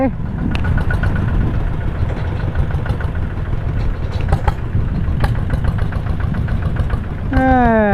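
A tractor engine runs loud and close during hay baling on a farm, a steady rough chugging throughout with voices heard briefly toward the end.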